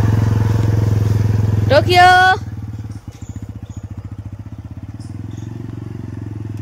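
An idling motorcycle with a dog riding on it gives off a steady, close engine rumble with a regular pulsing beat, while a voice briefly calls out over it.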